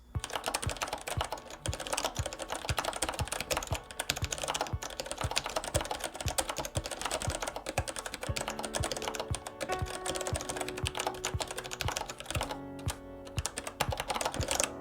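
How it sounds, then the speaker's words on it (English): Rapid, continuous clacking of an ergonomic mechanical keyboard during a typing test, close and steady, keystrokes pattering without pause for the whole stretch. "now for what you guys really want, a live typing test"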